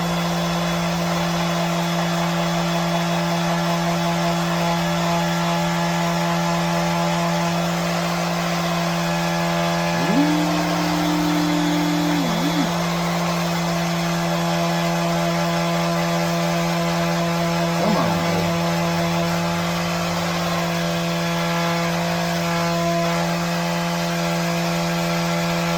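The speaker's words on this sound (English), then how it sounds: "I'm gonna sand these up right quick." A power sander runs in one steady, close, continuous motor hum with a constant whine, and occasional brief pitch wobbles along the way. No one talks.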